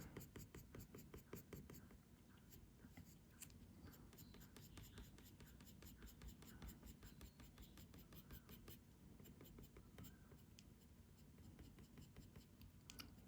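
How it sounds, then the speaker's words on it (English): Coloured pencils flicked quickly across paper to draw a bunny's fur, a steady run of soft, rapid scratchy strokes, close and fairly quiet, with no talking. "flick the pencils"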